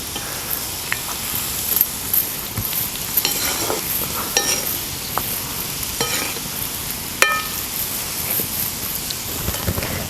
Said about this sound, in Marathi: मंद जाळेवरच ह्याला तळून घ्यायला पाहिजे